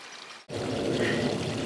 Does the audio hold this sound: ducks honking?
no